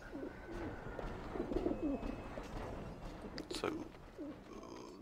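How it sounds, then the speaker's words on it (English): Pigeons coo repeatedly in an industrial-age London setting in the video game Alice: Madness Returns, soft throaty calls recurring in a rhythm over ambient background, with a brief word spoken once. "Pigeons."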